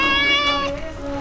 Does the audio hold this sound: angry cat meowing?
yes